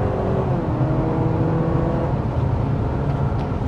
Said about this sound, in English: as we went up to speed there that we were actually kind of going through some gears